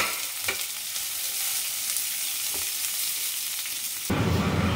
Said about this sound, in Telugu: ఆనియన్స్ యాడ్ చేసిన తర్వాత ఒక్కసారి మిక్స్ చేసుకొని కుక్ అవ్వాలండి హై ఫ్లేమ్లోనే పెట్టుకొని కుక్ చేసుకోవాలి